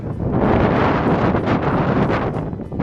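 Heavy wind atop Arthur's Seat in Edinburgh buffets the microphone in continuous loud rumbling gusts, with no voices.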